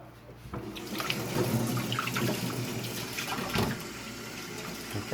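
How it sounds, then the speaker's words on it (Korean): Tap water runs steadily into a sink as chopped chili peppers are rinsed for Gyeongsang-style gochu jangmul, a soft continuous splashing that grows slightly fuller after the first second. "고추가 다 썰었으면 고추를 한 번 물에 헹굽니다"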